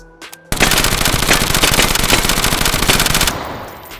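Automatic gunfire from a one-handed 5.7x28 weapon in the VR game H3VR, a loud, rapid, continuous burst of shots lasting about three seconds before it stops.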